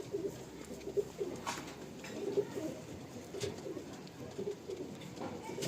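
Pigeons coo in repeated soft, low bursts, fairly close in a pigeon loft, with a few sharper knocks in between and no talking.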